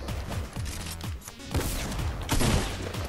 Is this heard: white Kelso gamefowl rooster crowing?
no